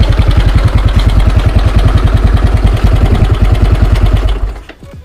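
A newly bought CVT automatic motorcycle runs close by with a steady, throbbing idle, its even pulses continuing loudly before the engine sound drops away near the end.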